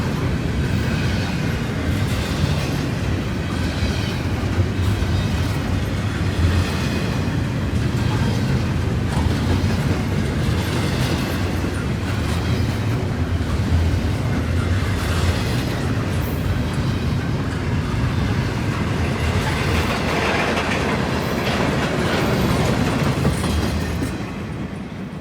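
Norfolk Southern locomotive NS 8096, fitted with a K5HLB horn, rumbles past as a train with steady, loud rolling rail noise and rhythmic clacking of wagons throughout, fading slightly at the very end; no distinct horn blast stands out.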